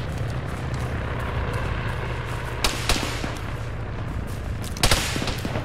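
Gunfire in the military video game Arma 3 during an assault in Blue Valley, a few distant cracking shots breaking over a steady low rumble of engines and wind.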